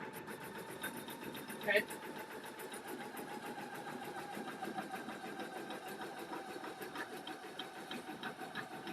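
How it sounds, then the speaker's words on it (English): An embroidery machine sews a satin stitch around a cloud design, a steady, fast mechanical whir running evenly throughout at moderate level, with one brief spoken word near the start. "we're embroidering the satin stitch around the cloud."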